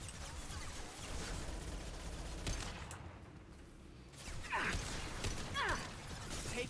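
Rapid gunfire in Mass Effect 2 combat, bursts of crackling shots and mechanical clatter, loud and continuous with a brief lull midway before firing resumes with sharp impacts.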